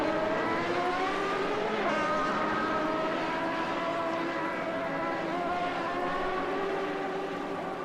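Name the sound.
1989 race cars on track in Assetto Corsa video game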